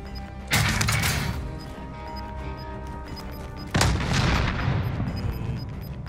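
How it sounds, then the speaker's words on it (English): Two sharp, heavy blasts from C4 explode in Call of Duty: Modern Warfare, each with a rumbling tail, against a low background of game ambience. "That was just C4."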